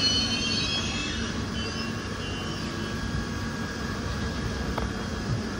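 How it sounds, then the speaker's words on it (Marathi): The Siddheshwar Udyan Express, on the Solapur–Mumbai–Bangalore route, pulls away from the station with a steady, loud, continuous rumble of rolling carriages and a faint higher whine above it. No voices are heard. "सोलापूर, मुंबई, बँगलोर सिद्धेश्वर उद्यान एक्सप्रेस. आणि आपलं इथून आता डिपार्चर झालेलं आहे."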